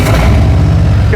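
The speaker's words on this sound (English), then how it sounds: "you don't need to put a key in to start this bike" A 2020 Harley-Davidson Street Glide Special 114 with keyless ignition and fuel injection rumbles loudly and close, a deep pulsing V-twin throb filling the short stretch.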